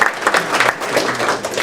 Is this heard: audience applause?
yes